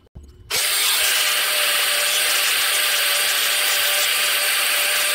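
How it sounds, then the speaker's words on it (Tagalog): A grinder bites into the lining of a Honda GX35 grass cutter clutch shoe with a loud, close, continuous abrasive whine that starts abruptly after a brief clatter. "So gagamit lang tayo dito ng grinder para madali."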